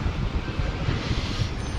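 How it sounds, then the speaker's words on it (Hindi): Outdoor wind buffets the microphone near a roadside temple, producing low, gusty rumbling pulses that rise and fall throughout, with no voices over it. "थोड़ा हवा चल रही है ना"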